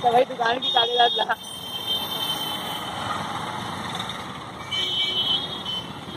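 Busy Delhi street traffic rumbles steadily with idling and passing motor vehicles, and a few horn toots stand out near the end; a voice speaks briefly at the start before the road noise takes over.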